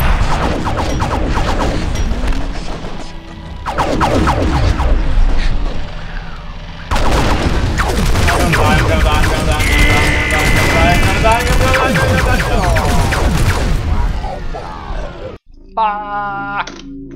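Gunfire in the shooter game F.E.A.R.: dense volleys of shots and heavy impacts, loud and chaotic, in long bursts broken by brief gaps, with voices and game sounds mixed in and a tonal electronic cue at the end.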